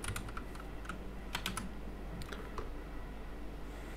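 Fingers type on a computer keyboard while searching for an editor extension: several quick bursts of close, crisp key clicks with short pauses, and no voices.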